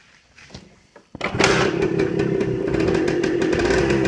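A 1978 Suzuki TF 100 motorcycle is started up: a few quiet clicks and taps, then the small engine catches abruptly and settles into a loud, steady, rattling idle close by.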